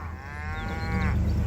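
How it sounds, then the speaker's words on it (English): A herd of cattle, young calves mixed with mature cows out on pasture, gives a long, steady moo that swells and fades over a low outdoor rumble, with no one talking. "And there's the other group of cows."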